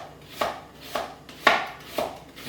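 A knife julienne-cuts vegetables for bread and butter pickles, four rhythmic slicing strokes against a cutting board, close and clear, with no voices.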